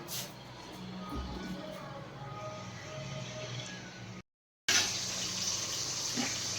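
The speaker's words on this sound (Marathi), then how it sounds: "ह्या साईडनं आता पाणी घेतो थोडं गार पाणी" Cold water runs steadily from a tap with a continuous splashing rush, briefly cutting out before resuming louder and brighter.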